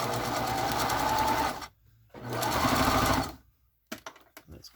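Domestic sewing machine stitching in two loud, steady motor-driven bursts separated by a pause, ending with a few short clicks and clatters of handling close by.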